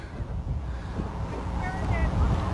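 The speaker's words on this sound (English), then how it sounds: "it is a very, very, very windy day out here" Wind buffets the microphone at an outdoor u14 soccer match on a very windy day, a constant low rumbling roar that grows heavier toward the end.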